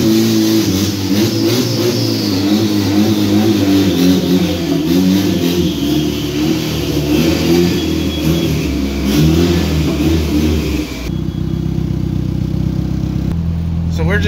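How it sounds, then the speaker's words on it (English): A 650hp Honda Integra drives along with a steady, loud engine drone and a rough rumbling tone holding near-constant revs, then briefly drops off as the car slows near the end, heard from inside the car. "Just driving it over to Carlos's shop, just checking all the drivability and everything"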